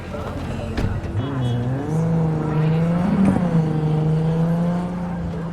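A car engine hums steadily while driving in Cyberpunk 2077, its pitch rising and settling with acceleration, loud and continuous beneath a voice talking throughout.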